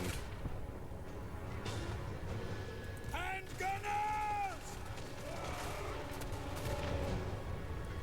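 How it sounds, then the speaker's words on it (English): Mortar fire in the battle game Total War: Warhammer 3, distant booms and impacts thudding under a dense, rumbling battlefield din, with a brief rising tonal whine in the middle. "that the mortar shots will now start"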